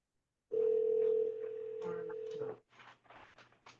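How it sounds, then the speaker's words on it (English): A phone rings out during a quiet evening dharma talk gathering, one steady electronic ringtone sounding loudly for about two seconds before breaking off, followed by faint shuffling and murmured voices. "Whose phone is ringing?"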